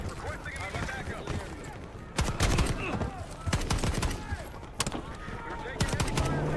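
Heavy Call of Duty Black Ops 6 gunfire comes in sharp clustered bursts of rifle and machine-gun shots, broken by short pauses, as voices talk over the shooting.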